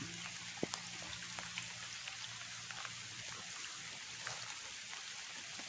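Rain falls on a roof as a steady, even hiss with scattered light drops tapping through it, fairly quiet and continuous without any voices.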